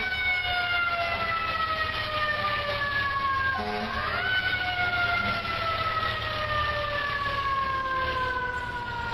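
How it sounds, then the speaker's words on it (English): A wailing emergency vehicle siren in the video game Emergency 4 sweeps up and down continuously, loud and steady, over a constant engine rumble. "The siren's so beautiful."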